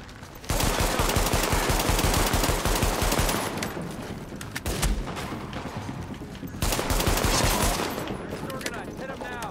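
Automatic rifle fire in Tom Clancy's The Division, with dense, loud rapid bursts that pause briefly and resume, and a voice speaking between volleys.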